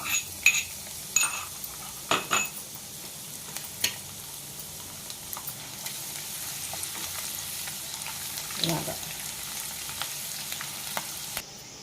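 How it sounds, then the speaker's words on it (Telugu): Tempering seeds and garlic fry in oil, sizzling and crackling steadily in a pan, with occasional clinks of a spoon stirring against the metal, close by and with no talking. "బాగా వేగిందండి తాలింపు గింజలు వెల్లుల్లిపాయలు చక్కగా వేగినాయి"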